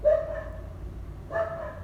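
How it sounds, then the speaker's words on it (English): Dogs bark in the background, two separate muffled barks about a second apart over a low hum, distant and moderately loud, with no talking. "you guys might hear some dogs barking in the background"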